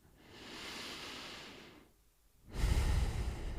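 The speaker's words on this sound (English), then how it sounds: "Maybe put a palm right in the center of your chest and breathe into it." Slow, deep breathing: a long, soft inhale, a short pause, then a fuller, louder exhale, close and alone without talk.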